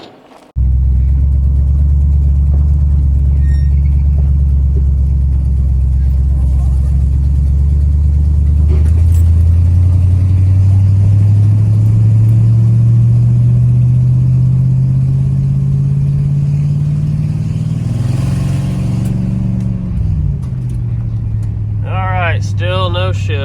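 A Chevrolet squarebody dually truck's engine fires up and pulls away, a steady low drone that climbs in pitch as it accelerates, then eases off near the end, loud and close throughout.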